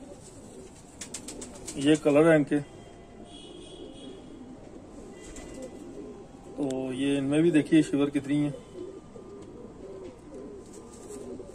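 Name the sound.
homer racing pigeons cooing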